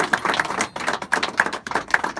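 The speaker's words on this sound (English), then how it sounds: "Please give a round of applause to Hannah." A small group at Nazareth Village claps for a few seconds, scattered, uneven hand claps close by, with no talk over them.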